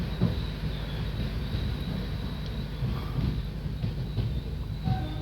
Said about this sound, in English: This is Sirkaji railway station